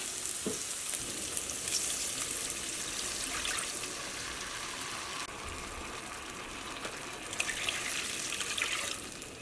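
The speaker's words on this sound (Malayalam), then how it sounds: "വെള്ളം ചേർക്കണം" A steady, fairly quiet broadband hiss of water being poured into a pan, continuing unbroken, with no voices.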